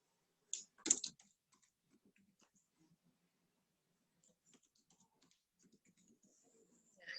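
A password is typed on a computer keyboard in a quiet room: a couple of sharper clicks near the start, then sparse, faint, close key taps spread out over the rest.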